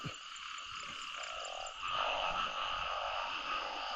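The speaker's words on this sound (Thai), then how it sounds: "กบครับกบ" A dense chorus of frogs croaks and trills continuously, steady and fairly loud, with no voices.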